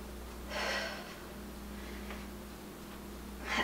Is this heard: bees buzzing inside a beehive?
no